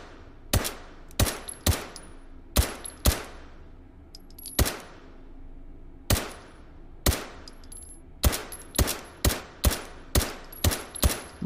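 Repeated loud, sharp video game gunshots in irregular bursts, some spaced apart and others fired in quick succession, with brief gaps between.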